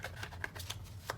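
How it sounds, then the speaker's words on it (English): A deck of tarot cards being shuffled by hand, with soft papery riffles and flicks in quick irregular bursts, close and quiet, with no talking. "the cards in this deck really like to turn around as I am shuffling them"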